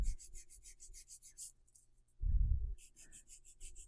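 A nail file rasps across the tip of an acrylic-gel hybrid nail being tapered into a coffin shape, with quick, close, rhythmic strokes that stop briefly for a soft low thump and then resume.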